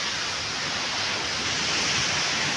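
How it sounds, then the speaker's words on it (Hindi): A large waterfall at Dunav, where the Khatalgarh and Nayar rivers meet, roars as a loud, steady, unbroken rush of falling water heard nearby. "आज मैं हूँ दुनाव में और ये गिर रहा है यहाँ पे झरना"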